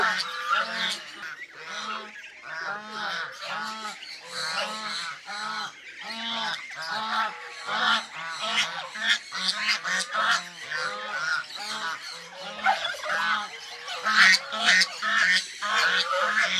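A flock of young pet geese, half-grown with their feathers coming in, honk loudly and continuously together in an overlapping chorus of nasal calls that lasts the whole stretch.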